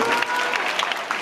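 A dinner audience at a senior parent gala gives a brief round of applause, a dense, even patter of many hands filling the room.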